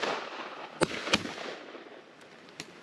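Distant shotgun shots crack out at a pheasant shoot on Exmoor, two sharp reports close together and a fainter one after, over quiet outdoor air.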